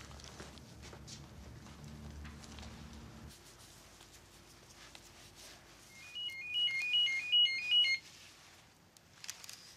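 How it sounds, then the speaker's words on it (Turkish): A telephone rings while a call is placed, a short burst of bright, warbling ring tones near the end over quiet room ambience and a few soft knocks. "Dur Cemre'yi bir arayayım, anlatacağım"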